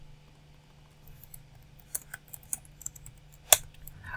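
Sparse computer keyboard typing while entering data into an Excel cell, a handful of quiet, irregular key clicks over a faint hum, with one sharper tap near the end.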